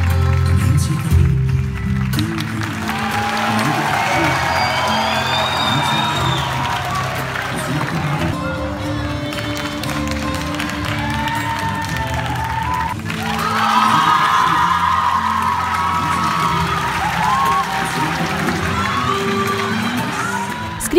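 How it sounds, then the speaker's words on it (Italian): An audience at the Premio Radio Milazzo 2016 award presentation bursts into loud, sustained applause mixed with cheers and whoops. The crowd noise stays dense and close throughout, swelling again toward the end. "Facciamo un applauso"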